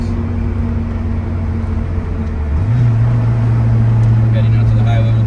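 A 1995 Mitsubishi Mirage Cyborg hatchback with a 1.6L MIVEC engine hums steadily while driving, its engine drone rising in pitch and loudness about halfway through as it pulls harder.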